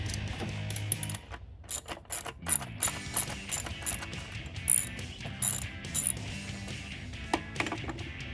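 A ratchet with a swivel socket works an ignition coil loose on a 2012-2016 Jeep Wrangler JK, giving quick bursts of close metallic clicking in repeated strokes with short pauses between them.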